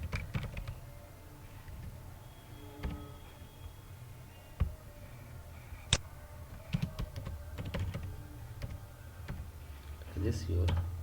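Someone types on a computer keyboard while entering a name into an Excel spreadsheet, producing soft, scattered key clicks in short bursts under a quiet voice talking.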